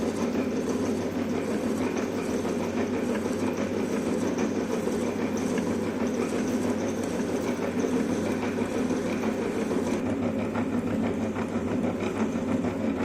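A milling machine cuts spur gear teeth in a steady, loud, continuous mechanical drone with a low rumbling hum and a faint rhythmic rattle, with no speech.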